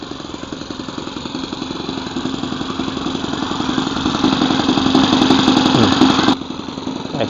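A Saito FA-62 glow engine powers an RC Cub plane in flight, its buzzing drone steady and fairly loud, rising slightly in pitch and volume before cutting back abruptly near the end.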